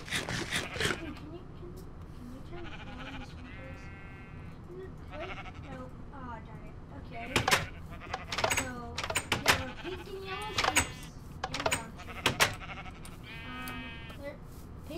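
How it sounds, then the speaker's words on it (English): Minecraft sheep bleating in short nasal bursts several times over a game background, with people talking throughout. "sheep. Get back over here."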